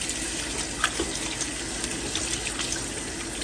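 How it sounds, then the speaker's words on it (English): Tap water runs steadily into a sink outdoors while hands are washed under it, a continuous close splashing hiss with small irregular splats and no talk. "Wash my hands here a minute."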